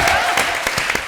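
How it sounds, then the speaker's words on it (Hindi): Energetic audience applause on a comedy stage show, a short burst of continuous clapping from a studio crowd, loud and close. "जोरदार तालियां बच्ची के लिए।"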